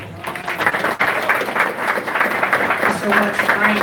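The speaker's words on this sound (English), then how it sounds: "Let's give a round of applause" An audience claps and cheers at a political rally for a gas tax repeal proposition in Torrance, a dense, sustained wash of applause from a nearby crowd, swelling slightly with some voices mixed in.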